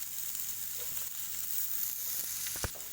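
Chopped onions sizzle steadily in a little oil in a pan, a continuous close hiss with occasional louder pops near the end.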